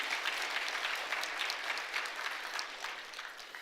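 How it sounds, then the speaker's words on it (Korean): Church congregation applause welcomes a returning elder during a worship service: steady, moderately distant clapping from many hands that holds evenly, then tapers slightly. "박수로 환영하겠습니다."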